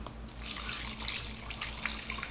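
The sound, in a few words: pouring warmed wing marinade into a Ziploc bag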